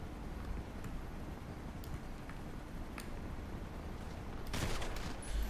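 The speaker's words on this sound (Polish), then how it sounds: "Ja strzeliłem pierwszy!" Scattered gunshots in a GTA roleplay shootout, a few sharp distant cracks over steady background noise, then a louder close burst near the end.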